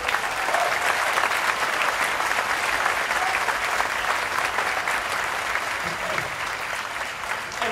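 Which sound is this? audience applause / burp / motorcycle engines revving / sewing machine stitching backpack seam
audience applause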